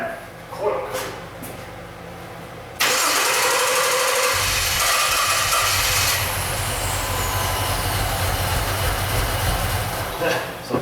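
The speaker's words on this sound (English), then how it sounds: "Let me go crank this over." Jeep Liberty engine cranking and catching with one ignition coil unplugged, after some handling noise a loud rough idle settles in and runs steadily, close by.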